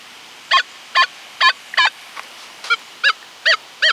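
A Legend metal detector with an LG24 coil signals over a quarter buried 1/8 inch deep, with audio gain at 6, giving about nine short warbling beeps in an even rhythm, each alone against faint background hiss.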